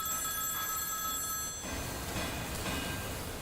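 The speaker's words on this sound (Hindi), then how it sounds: "सर मेन ऑफिस से फोन है सर।" An office telephone rings with steady electronic tones, then gives way to a broader hum of background noise; no voices are heard.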